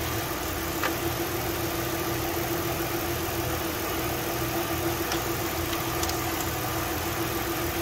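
A 2008 Ford Edge idles steadily at close range, a constant low engine drone with a faint hum and no voices.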